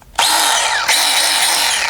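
A cordless electric saw bought from TEMU whines loudly and continuously in a garden, spinning up after a brief pause and running steadily with a slight dip in pitch midway.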